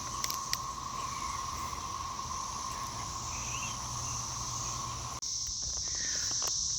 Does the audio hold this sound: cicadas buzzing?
yes